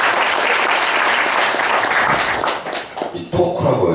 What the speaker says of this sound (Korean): 우리 김식 회장님 박수로 한번 맞이해주십시오